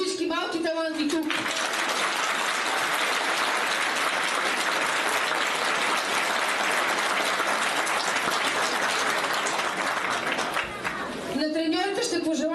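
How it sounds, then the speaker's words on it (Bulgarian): Sustained crowd applause for young football talents at a youth tournament award ceremony in Stara Zagora, dense and steady for about ten seconds, with a speaking voice briefly at the start and end. "Аплодисменти за всички малки таланти тук!"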